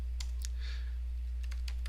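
Typing on a Commodore 64 computer keyboard, a few sharp close key clicks in two small clusters over a steady low mains hum.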